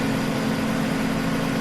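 A loud, steady tractor engine in Farming Simulator 17 drones at idle with a low, even hum and no pauses, close by and alone.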